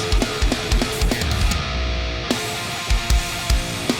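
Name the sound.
double kick drum pattern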